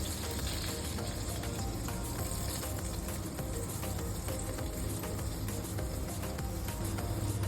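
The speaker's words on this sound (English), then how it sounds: "We flip to brown the other side." Meatballs frying and browning in a pan, a loud, constant sizzle with dense crackling and popping oil throughout, close and unbroken.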